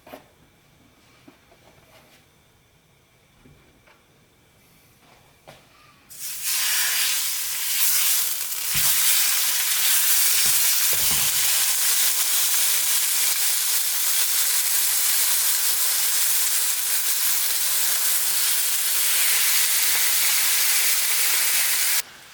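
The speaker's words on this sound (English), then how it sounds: "I've got my pan heating up here. I'm going to very lightly oil" Lightly oiled pan heating for pepper steak: after a few quiet seconds with small clinks, a loud sustained sizzle bursts in and holds steady to the end, close and alone.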